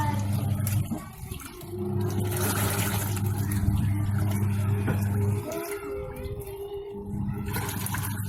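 A Haier Fuzzy XQS6078 washing machine, converted from PCB to timer control, running its wash cycle: steady churning water and a low motor hum throughout, with a brief dip in the drum's rhythm near the middle.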